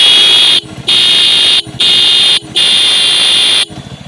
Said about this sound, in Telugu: ఇప్పుడు ఒకసారి ఈ వెహికల్ హార్న్ సౌండ్ వినిపిస్తాను చూడండి.